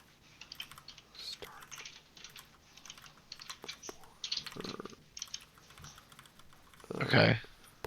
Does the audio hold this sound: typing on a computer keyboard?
yes